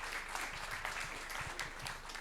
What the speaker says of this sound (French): Applaudissements encore, s'il vous plaît, pour